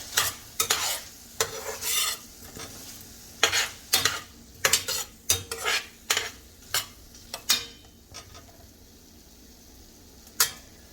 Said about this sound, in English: And then just give it a stir